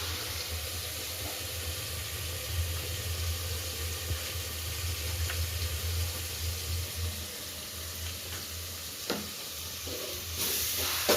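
A masala mixture with garlic chutney, wheat flour and semolina fries in a pan for undhiyu, giving a steady low sizzle with occasional stirring clicks and no voices.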